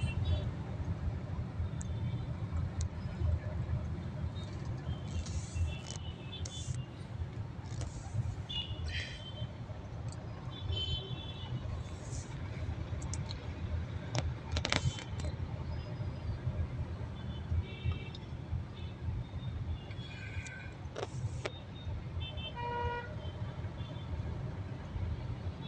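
Busy city road traffic in Hitech City, Hyderabad, with a continuous low rumble of cars and buses passing and a few short horn beeps scattered throughout. Someone talks over the traffic at times.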